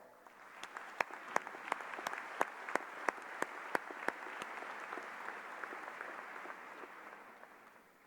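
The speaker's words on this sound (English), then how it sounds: "I am sure he will feel the energy of a warm round of applause" Applause at a university commencement ceremony, a broad wash of crowd clapping with a run of sharp nearby claps standing out early on, then gradually fading.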